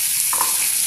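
Egg pasta mixture with salt and turmeric frying in a pan, giving a loud, dense hiss that holds steady throughout, with a brief stir.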